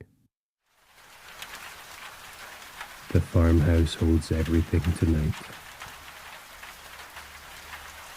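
Steady rain falls outside a Scottish farmhouse at night, a soft continuous patter running the whole time, with a calm voice speaking briefly over it partway through.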